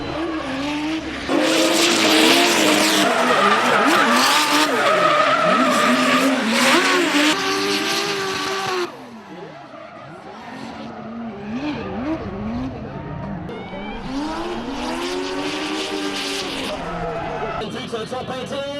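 Drift cars in a drifting competition's second round, engines screaming and tires squealing through continuous loud skids, with commentary running over the action throughout.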